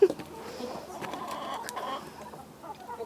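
Small-farm chickens cluck softly close by, with a few short calls and faint background movement, no voices.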